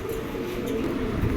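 A male checker pigeon coos softly in a low, throaty rumble, close by and fairly quiet with no talking.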